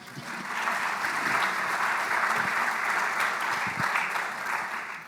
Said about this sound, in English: That's worthy of a hand clap, folks.